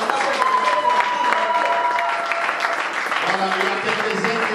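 A church congregation applauds and cheers in praise of the Lord, a dense, steady wash of clapping and crowd voices filling the room from start to finish, loud and continuous.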